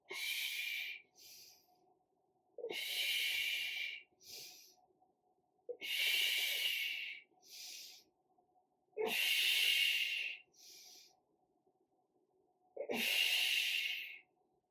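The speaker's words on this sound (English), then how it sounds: "Breathing, breathing." Heavy, rhythmic breaths during a weighted vest workout: five loud hissing exhales, each followed by a short, quieter intake, spaced a few seconds apart and close to the mic.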